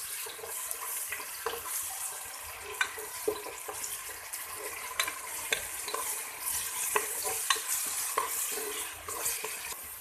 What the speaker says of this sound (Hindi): 3 मिनट के लिए इसको मैं भून लूँगी प्याज के साथ